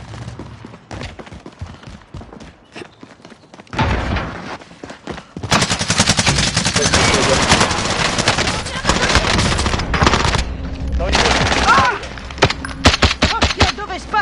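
A PS4 shooter game plays sparse single shots at first, then loud sustained bursts of automatic gunfire with short pauses between them, under occasional voice chat from players.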